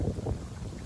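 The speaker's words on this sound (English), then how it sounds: "It's really windy today, so I really hope that you guys can hear me" Gusty wind buffets the microphone outdoors in a cottage garden, a steady low rumble with a few stronger bursts in the first third, no voices present.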